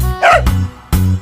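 Two short, sharp barks a moment apart, close and loud, like a small-to-medium dog.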